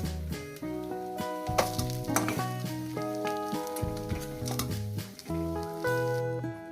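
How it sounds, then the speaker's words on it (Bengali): Parshe mullet fries in hot oil with a gentle continuous sizzle and occasional spatula scrapes, heard close but fairly quiet beneath steady melodic background music, without speech. "মাছটা ভাজা হয়ে গেছে এবার এটা তুলে নেব"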